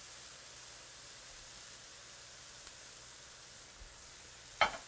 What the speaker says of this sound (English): Stir this all around, and the smell is absolutely delicious.